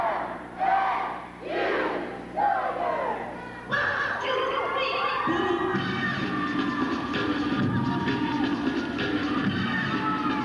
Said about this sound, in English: Good crowd response, too.